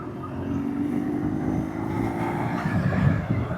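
A BMW R nineT motorcycle hums steadily while riding near the village of Hawes in the Yorkshire Dales, with a low engine drone and rushing wind noise continuing throughout and no voices.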